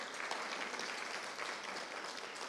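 Audience applause at a meeting, a soft, steady wash of clapping throughout, faint and fairly distant.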